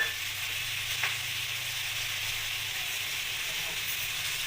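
Flat beans fry with tomato and onion in a pan, giving a steady, close sizzle with a soft hiss and a couple of brief clinks or stirs, with no talking.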